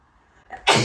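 A woman sneezes once, close and loud, a short sharp burst after a brief quieter intake of breath, indoors while doing her makeup.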